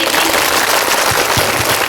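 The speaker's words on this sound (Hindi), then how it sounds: "एक बार जोरदार तालियां हो जाए।" Loud, dense applause fills a gathering of the Tharu community, a brief continuous burst of many hands clapping with some crowd noise mixed in.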